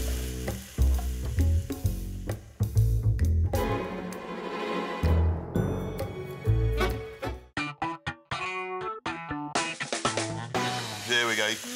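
Curry paste and fresh ingredients for a Thai prawn and pumpkin curry sweat in a pan, giving a steady sizzle broken by stirring scrapes and clatters, while a voice talks over it now and then.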